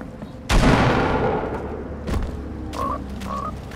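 A loud, close grenade blast bursts in the Fortnite video game and rumbles away, followed by scattered thuds and a couple of short electronic tones.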